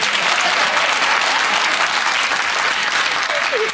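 A large audience at a Michael Bublé show breaks into loud, sustained applause, a dense roar of many hands that fills the space without letting up.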